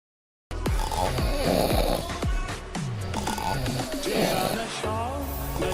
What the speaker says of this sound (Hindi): जब सो रही है तो भी इतनी तेज तेज खर्राटे ले रही है